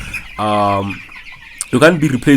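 A broiler hen gives a drawn-out cluck, followed by a quick burst of sharper clucks and squawks close by.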